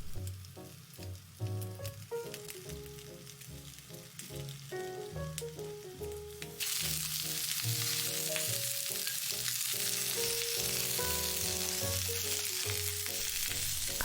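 Burdock root frying with meat in a pan, a steady close sizzle that grows louder and denser partway through as the burdock is added, with faint stirring clicks and no voices.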